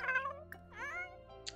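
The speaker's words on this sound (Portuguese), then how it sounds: "Não parava de miar nunca mais" A cat meows insistently, a drawn-out wail followed by a rising, whiny cry and a short squeak, close and fairly quiet against a low background hum.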